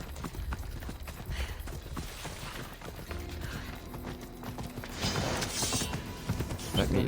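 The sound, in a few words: horse hooves in a video game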